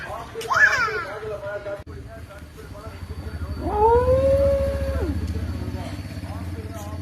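An Indian indie dog howls in two long rising-and-falling wails, one short near the start and a longer, louder one in the middle, over a low background hum.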